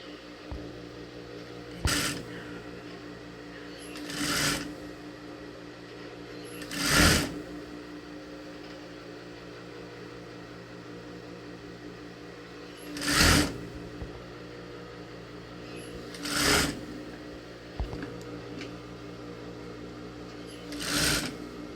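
A sewing machine stitches down the collar of a button-front blouse in several short separate bursts, each a brief whirring run, with quiet pauses between them.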